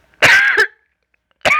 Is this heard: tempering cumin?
no